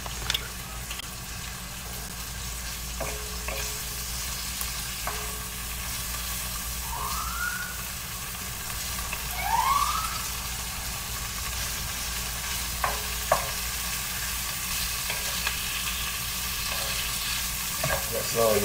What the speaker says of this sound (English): Y'all hear that? It's sizzling.